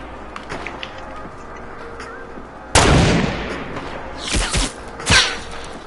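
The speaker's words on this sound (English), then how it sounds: "Oh shit, they're shooting at me, bro" Gunfire in a Fortnite Battle Royale match aimed at the player, a sudden loud blast followed by a couple of further sharp shots over a steady game background hum.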